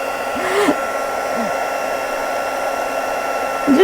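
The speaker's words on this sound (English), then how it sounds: "This still amazes me, heat embossing." A heat tool melting gold embossing powder blows with a loud, steady hair-dryer-like whoosh that runs continuously, while someone speaks briefly over it.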